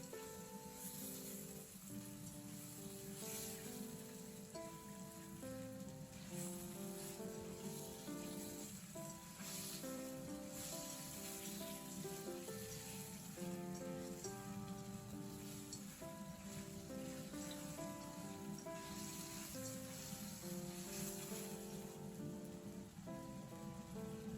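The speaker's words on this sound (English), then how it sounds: "Stir fry for 3 minutes or until the ribs turn slightly yellow." Pork ribs stir-frying in a pan, a dense, even sizzle and crackle that runs steadily throughout, with a musical background playing over it and no voices.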